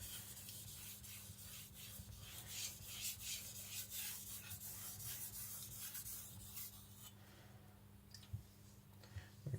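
A Tojiro Shirogami nakiri knife is stroked across a whetstone in a faint, steady series of gritty rubbing passes, soft and rhythmic, with a few light clicks near the end and no talking.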